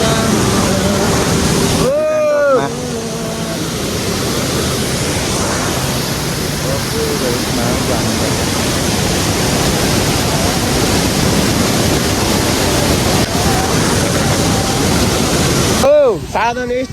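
Mountain stream rushing during the monsoon, a loud steady broadband roar of water close by, with a couple of brief vocal sounds over it.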